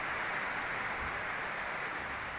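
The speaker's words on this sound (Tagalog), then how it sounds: "Nararasan din yan sa Coronadal City kung saan bumuhos ang malakas na ulan." Heavy rain pours down in Coronadal City, a steady, dense wash of hiss with no breaks, holding at an even, fairly loud level throughout and no voices present.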